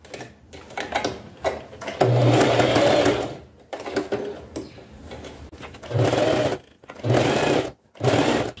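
A sewing machine stitches all the way around a fabric piece in several loud, steady whirring runs separated by short pauses as the fabric is turned, with no talk over it.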